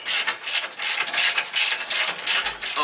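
A ratchet turns bolts while a Corksport skid plate is installed on a Mazdaspeed 3, giving rapid, bright clicking in steady bursts, close and loud, with no talking.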